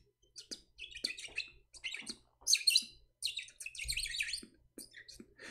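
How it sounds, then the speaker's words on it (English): A person whistling on a live broadcast in a series of short, chirpy, bird-like phrases with brief gaps between them, fairly close. "I am live on air, I'm whistling"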